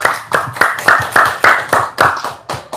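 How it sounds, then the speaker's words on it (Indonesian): Rhythmic audience hand clapping, about ten even claps in a steady beat, fairly loud and close, with no voices. "Tepuk tangan dulu dong."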